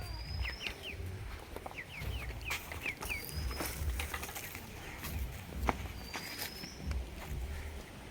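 Quails being given starter feed, heard as scattered light pecking and soft rustling among faint bird chirps and calls, set against a low outdoor background rumble.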